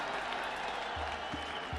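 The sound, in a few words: cricket crowd clapping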